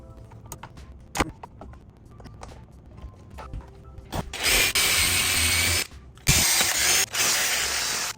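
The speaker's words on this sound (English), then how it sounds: "We've got the little cap drilled out." A power drill boring a hole through a small plastic headlight cap: short revving bursts and clicks at first, then two long, loud, steady whining runs close up, with no talk.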